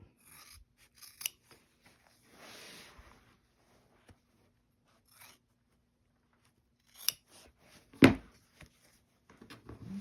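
Scissors cutting fabric in a home sewing room, heard as a few scattered, quiet snips and rasps with one louder, sharper cut near the end, close by, with no talking.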